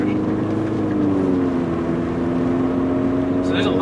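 Engine noise rises and fades as a car passes on a road, a steady near rumble with a changing engine tone and a voice speaking over it.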